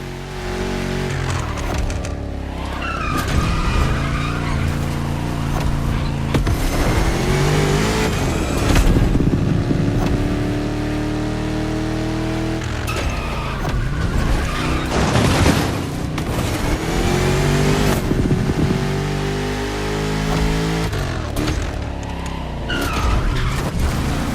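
Muscle cars race through a Detroit-style street circuit in The Crew Motorfest on PS5, with loud continuous engine roar, repeated tire skids and impact booms filling the whole stretch without speech.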